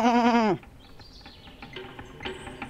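A sheep in Jazzpunk lets out one loud, wavering bleat up close, followed by fainter chirpy game sounds.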